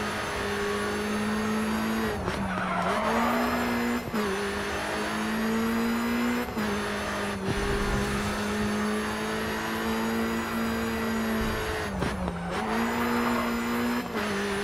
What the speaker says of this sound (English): So much fun to drive this car.